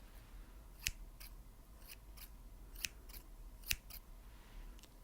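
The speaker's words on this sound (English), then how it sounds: "It is a pair of scissors." A pair of scissors opens and closes in a quiet room, giving several sharp, crisp snips at irregular intervals, close and faint.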